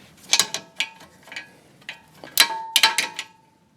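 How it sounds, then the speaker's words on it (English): A ratchet turns a 17 mm bolt on the front brakes of a 2014 Honda Accord, giving a few quick bursts of sharp metallic clicks close by, with short pauses between them. "that's a 17, so we'll just use a ratchet to get it quick"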